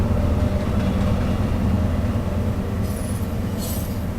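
A video game train rumbles steadily along the rails in Train Simulator, with a low continuous drone and brief high squeals of wheels near the end.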